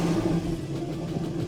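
An Infiniti M45 sedan with dashboard warning lights on has its engine running, a steady low, close rumble with a slight rev at first, settling into an even idle with no voices.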